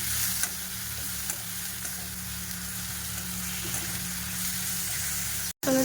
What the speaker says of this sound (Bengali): টমেটো কুচিটা দিয়েও ওর সঙ্গে ভালো করে আমি কষিয়ে নেবো